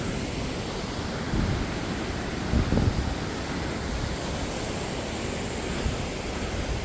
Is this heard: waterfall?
yes